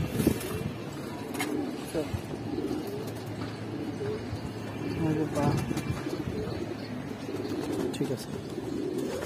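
Giribaz pigeons coo softly in low, throaty bursts at a bird seller's, close by but fairly quiet, mixed with people talking over them.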